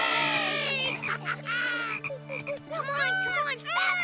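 Cartoon frogs croaking during a frog race, a quick run of loud, close, wobbly croaks that repeat in uneven bursts, with no talk in between.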